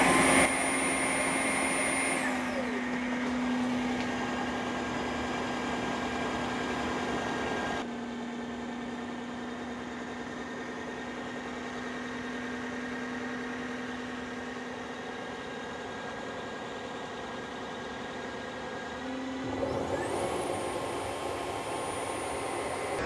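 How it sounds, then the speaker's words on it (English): A Dreametech H12 Pro wet dry vacuum runs its self-cleaning cycle with a steady motor whir and high tonal whine, dropping to a quieter hum midway before ramping back up, continuous and close with no talking. "during the self-cleaning cycle, it says it will direct heat to help dry the roller"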